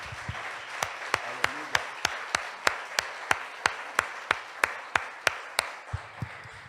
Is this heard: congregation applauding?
yes